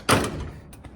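A Chevrolet C10 pickup door slams shut with one sharp, loud thud, followed by a faint rattle and a small knock as it settles.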